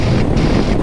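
Loud, constant wind buffets the microphone during a motorcycle tour through the desert. It roars as a dense, unbroken rush with no voices.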